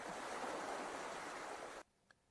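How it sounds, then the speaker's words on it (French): Sea waves wash onto the shore at a coastal resort in Jacqueville, Côte d'Ivoire, a continuous roaring rush that cuts off abruptly near the end, followed by near silence and a faint tick. "C'est pas un lac parce que il y a des vagues."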